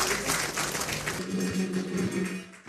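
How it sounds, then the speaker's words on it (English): An audience at a financial summit applauds its panelists with sustained, full clapping that fades near the end, while a faint voice carries underneath. "Please a round of applause for them once again."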